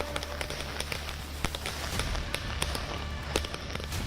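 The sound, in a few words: firecrackers bursting on Diwali night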